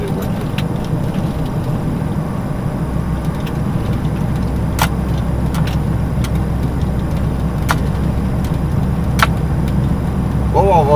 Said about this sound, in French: Là maintenant c'est toutes les voitures.